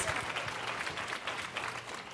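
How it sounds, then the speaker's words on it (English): An audience breaks into applause, a continuous crackle of many hands clapping at moderate volume for a couple of seconds, with no voices standing out. "let's give her a round of applause."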